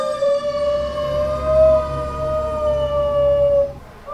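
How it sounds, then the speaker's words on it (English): A dog howls along with a passing fire truck siren on a loud, busy San Francisco corner, the long wavering howl riding over the steady siren tone, close and loud. "And my dog's gonna start howling."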